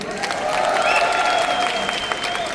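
Audience applause at a film audio launch, a steady dense wash of clapping from a crowd that stays fairly loud throughout without voices standing out.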